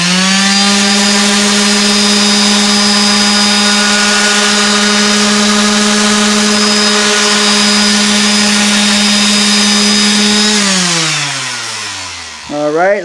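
A power sander with used 60-grit Velcro-backed sandpaper grinds a custom bullnose on a tile edge, making a loud, steady motor whine that winds down near the end, where a voice briefly sounds.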